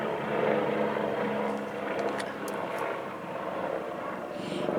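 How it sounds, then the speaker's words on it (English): An airplane drones overhead in a steady, moderately loud wash that swells slightly and fades, with no one talking beneath it. "it's almost like these airplanes are trying to interrupt"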